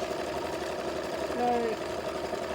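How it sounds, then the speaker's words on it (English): A sewing machine running steadily while stitching small circles, a continuous mid-pitched motor whir with a slight rise partway through, close by and under a voice. "just a little circles, stitching around"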